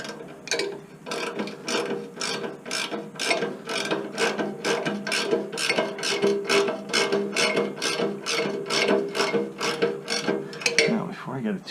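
Ratchet wrench tightening an exhaust flex pipe clamp on a Nissan Murano: rapid, even run of close metallic clicks with a steady rhythm, sustained for about ten seconds.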